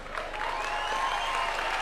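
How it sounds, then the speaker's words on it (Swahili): Audience applause at a political gathering of party aspirants in a State House hall in Nairobi, a dense, steady clatter of many hands clapping throughout, fairly loud and continuous with no pauses. "simama tukupigie makofi"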